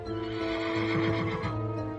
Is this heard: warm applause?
no